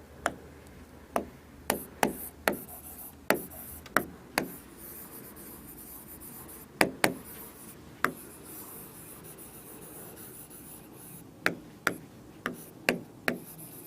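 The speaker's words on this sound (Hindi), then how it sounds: "लिख देती हूँ" Hand writing of notes during a Class 10 science lesson: a steady run of close, crisp pen or marker taps and short strokes, irregularly spaced with a pause in the middle, and no talking.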